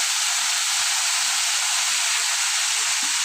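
Cauliflower and potatoes fry in a pan with a steady, loud, broad hiss that stays even throughout, with no voices.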